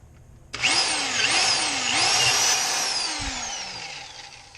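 A power drill spins up sharply and keeps running for several seconds, its whine wavering as it bites in, then easing off toward the end.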